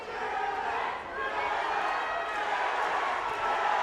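A boxing arena crowd roaring and shouting as a fight begins, a dense continuous wall of voices and cheers that swells slightly toward the end.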